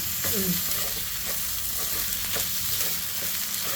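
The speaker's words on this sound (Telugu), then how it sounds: "ఇప్పుడు కర్రీ మొత్తం కలిపేసుకోవాలా" Paneer bhurji curry is stirred in a hot pan with onion, a spoon scraping through it in short repeated strokes over a steady close sizzle.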